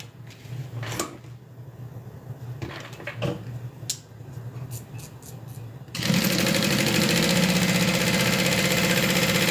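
A sewing machine stitches across the top of a fabric bag, a fast, even mechanical whir that starts partway through after quieter handling sounds and then runs steadily and close.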